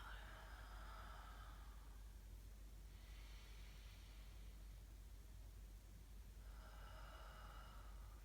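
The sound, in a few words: deep breath out during yoga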